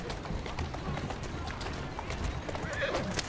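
In the video game Assassin's Creed Syndicate, a horse whinnies over quick, rhythmic clip-clop hoofbeats at a trot, fairly close, with faint crowd-like background noise.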